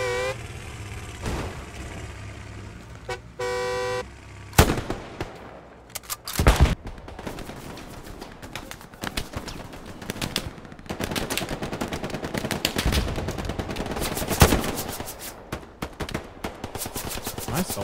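Nighttime World War II combat in the game Hell Let Loose, with loud close gunshots and bursts of machine-gun fire cracking irregularly, interspersed with sharper single reports over continuous battlefield rumble.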